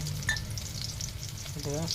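Garlic, mustard seeds and cumin sizzle in hot oil in a pan, a steady close crackle with a brief stir partway through and no talking.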